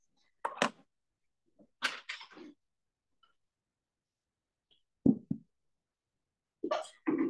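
Several short, sharp bursts break up near-silence, a few abrupt sneezes or similar nasal explosions spaced a second or more apart, close and fairly quiet.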